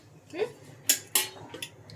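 A metal cooking pot is set on a lit stove before frying chicken, a few sharp close clanks and scrapes of metal on metal over a quiet background, with a faint murmur early on.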